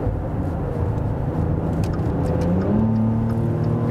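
Maserati Levante S SUV with its 3.0-litre V6 heard from inside the cabin, a steady engine drone that rises in pitch as it accelerates near the end, with no talking.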